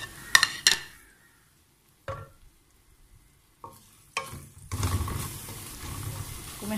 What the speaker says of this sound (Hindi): तो मैं हल्का सा फ्राई कर रही हूँ